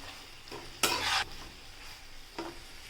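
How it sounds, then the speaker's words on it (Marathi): Pumpkin sabzi with freshly grated coconut is turned over in a pan, with brief scraping stirs and one longer, louder sweep of the spatula over a quiet background sizzle. "खोबरासुद्धा आपण मस्तपैकी पलटी करून घेऊयात"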